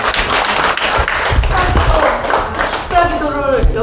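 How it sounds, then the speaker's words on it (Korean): A congregation applauds at a church founding and denomination-joining ceremony, loud dense clapping heard close, mixed with voices and shuffling, with a brief tonal ringing toward the end. "하나님께 큰 박수 올리겠습니다."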